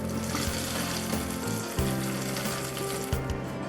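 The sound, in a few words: spiced ghee with cashews, raisins, dried chillies poured, sizzling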